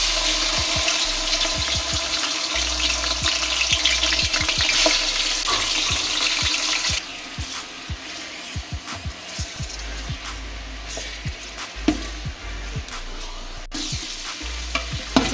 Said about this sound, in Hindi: ये इसे हम फ्राई कर लेंगे।